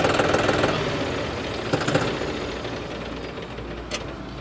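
A John Deere 5210 4WD tractor of about 50 HP idles close by, a steady low diesel rumble with a faint rhythmic knock and no talk over it.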